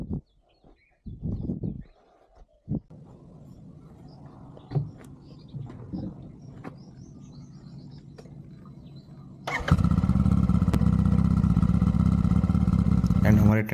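A Royal Enfield Super Meteor 650 motorcycle at a tented campsite: after scattered handling clunks and faint voices, the engine fires up abruptly and settles into a loud, steady, close idle rumble that continues to the end.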